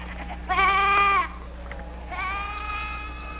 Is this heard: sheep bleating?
yes